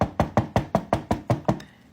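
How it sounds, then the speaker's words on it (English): Knocking on a door: nine sharp, evenly spaced knocks in a quick run, close and clear, with no voices. "and you knock on the door again"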